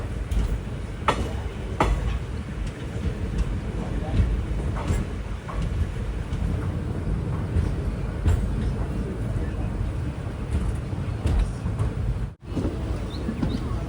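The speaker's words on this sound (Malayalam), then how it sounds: "തിരുച്ചെന്തൂരിൽ നിന്ന് കറക്റ്റ് 7:10 തന്നെ ട്രെയിൻ ഇതാ എടുത്തിരിക്കുകയാണ്" A passenger train pulls away from Tiruchendur station on its 7:10 run, a steady broadband rumble of wheels and rail noise with faint clicks, continuous throughout and briefly dipping near the end.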